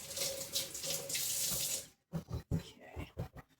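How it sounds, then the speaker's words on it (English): A kitchen tap runs steadily while hands are rinsed under it during salsa canning prep, a close, full hiss that cuts off about halfway, followed by a few brief splashy knocks and drips. "rinse my hand off"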